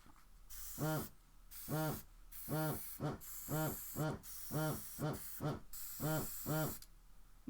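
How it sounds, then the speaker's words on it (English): A struggling compressor pulses in a regular on-off rhythm, each burst a buzzing hum with hiss, about ten pulses, loud and close. "So the pulsing on the compressor is not normal."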